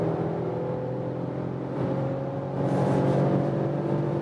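A Mercedes-Benz E-Class All-Terrain pulls away and accelerates, its engine and road noise a steady close rumble that swells slightly as speed builds, with no talking.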